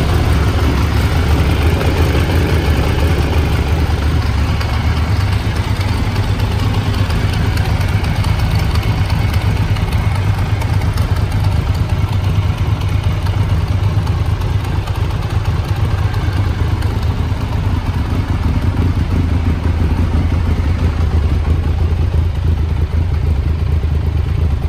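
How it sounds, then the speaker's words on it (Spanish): A 1996 Triumph Daytona 900 Super III sport motorcycle, already warm, idling steadily and loudly up close, a continuous mid-pitched engine rumble with light mechanical clatter, no talking. "A ver si arranca solo a botón sin acelerar."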